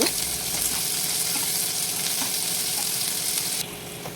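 Turmeric and ginger-garlic paste are stirred into browned ingredients in a hot frying pan, giving a steady close sizzle with scraping stir strokes throughout and a slight drop in level near the end.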